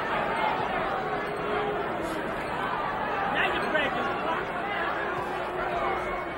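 Dense, steady murmur of a big boxing arena crowd at the 1987 Tyson vs Tucker heavyweight title bout, a restless wash of overlapping chatter holding at a fairly even level throughout.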